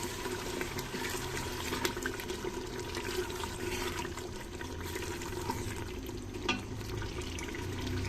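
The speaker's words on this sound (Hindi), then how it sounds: "यहाँ पर सालन भून रहा है, स्टीम आ गई है" Curry (salan) fries and steams in a pan during home cooking, a continuous hissing, bubbling sizzle at moderate level with a faint clink near the end, and no speech.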